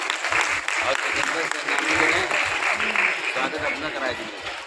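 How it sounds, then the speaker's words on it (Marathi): A crowd at a municipal corporation felicitation ceremony in Ulhasnagar gives sustained, dense applause throughout, with an announcer talking over the clapping. "सर्वांनी टाळ्यांनी स्वागत करावं"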